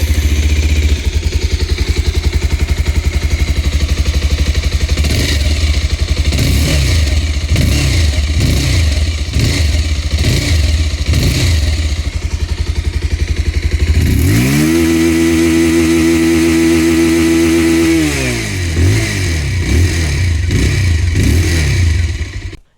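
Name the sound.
Bajaj Pulsar 220F motorcycle exhaust sound while revving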